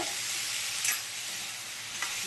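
Potato and ash gourd curry frying in oil, a steady close sizzle with a couple of brief scraping stirs, moderately loud and uninterrupted.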